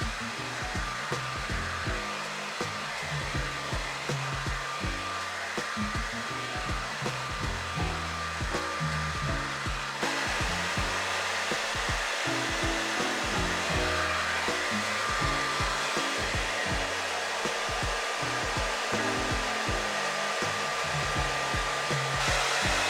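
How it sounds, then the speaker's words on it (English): A hair dryer fitted with a diffuser attachment runs steadily and loudly on freshly curled hair, a continuous whooshing roar with slight shifts in tone as it moves, with no talking. "I just finished curling my hair, and I do need to diffuse this hair"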